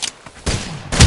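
Video-game gunfire rattles in short, loud bursts, a brief burst at the start, then a sustained barrage, then another sharp volley at the end.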